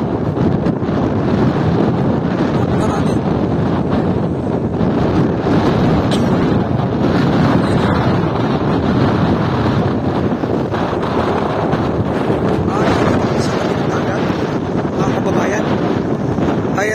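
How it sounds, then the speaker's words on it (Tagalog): Strong wind at the windmills in Ilocos Norte, Philippines, roars and buffets the microphone in a loud, unbroken rush that never lets up. "Kaya sobrang lakas po ng hangin dito na inyong nakikita."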